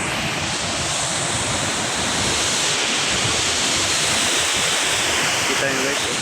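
Floodwater roars over a waterfall in a steady, loud broadband rush, close and unbroken from start to finish, with a little wind buffeting the microphone.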